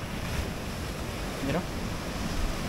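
Ocean surf washes onto a wild beach, a close, steady wash of waves mixed with wind buffeting the microphone, with a faint voice in the background.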